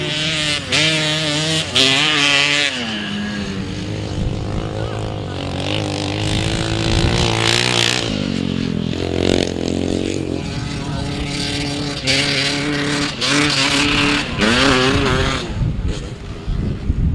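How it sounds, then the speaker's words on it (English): Grasstrack motorcycles racing at a 2007 meeting in Winchester, engines loud and close, rising and falling as the bikes pass and hold on the throttle, with a commentator talking over them. "Coming through Paul Simmons. Tremendous race there between those two"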